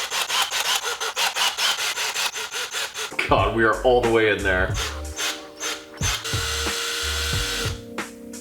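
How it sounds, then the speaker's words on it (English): A drill bores into the core of a banana, the motor buzzing in rapid bursts before grinding and scraping through the soft fruit, with a person talking and reacting partway through. "Now I'm gonna get to drilling."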